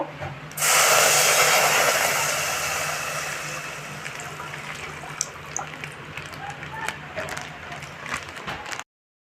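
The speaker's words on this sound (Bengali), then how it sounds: "এই চালটা হালকা করে ঘিয়ে ভেজে নিয়েছি তো এর মধ্যে আমি দুধ দিয়ে দেব" Milk is poured into rice lightly fried in ghee for payesh, a sudden loud rushing splash that settles into a steady, gradually fading bubbling hiss with faint clinks, close up and with no talking.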